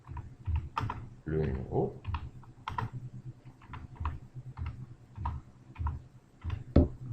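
Rapid clicking keystrokes on a computer keyboard, typed in short irregular bursts up close, while someone talks in French over the typing.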